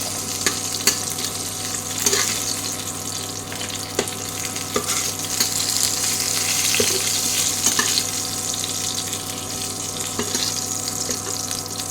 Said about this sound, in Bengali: মাছের মাথাটা একটু ভালো করে ভাজতে হবে।